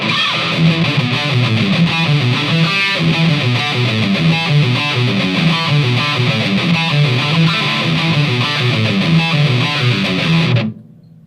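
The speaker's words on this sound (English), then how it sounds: "that's going to be like your grunge rock, any sort of hard rock distortion" Electric guitar through a Fender Mustang II amplifier on a heavily distorted grunge hard rock setting plays a dense, driving riff with a saturated, gritty tone, continuous until it cuts off abruptly near the end.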